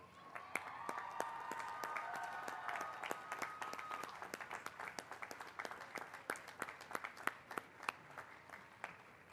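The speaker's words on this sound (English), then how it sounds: "So graduates, please join me by standing and giving those people a well-deserved round of applause." A university commencement crowd gives a standing round of applause, steady clapping from many hands building and then thinning to distinct individual claps, heard from a distance with a faint cheer early on.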